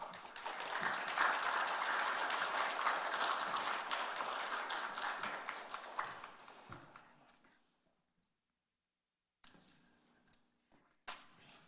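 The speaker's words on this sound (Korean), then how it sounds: "우리 박수로 환영하겠습니다" A church congregation at a Wednesday prayer meeting applauds to welcome a missionary, a steady wash of clapping that fades out after about seven seconds, followed by silence and then a few faint scattered sounds.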